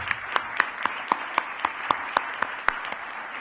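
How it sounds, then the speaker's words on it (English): At a South Asian philanthropy event, a sparse audience gives slow, evenly spaced claps, about a dozen distinct hand claps in a steady rhythm, fairly quiet and without talk. "Please give him and his team a big round of applause."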